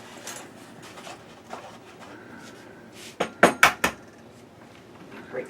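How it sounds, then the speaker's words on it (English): An egg is cracked against a cup outdoors for solar cooking, a cluster of several sharp, close taps in quick succession after quieter background rustling. "we're going to break that egg into the cup so we can mix them up together with a fork"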